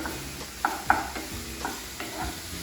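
Finely chopped tomatoes being sautéed in a pan, a few scraping spoon strokes and soft clinks over a low sizzle, close and fairly quiet with no talk.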